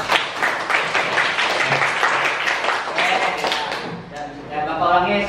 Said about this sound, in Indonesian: Tepuk semuanya.